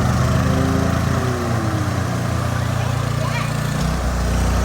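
A Cub Cadet lawn tractor's small engine drones steadily up close while being driven, a continuous low hum with slight shifts in pitch, and people talk briefly over it.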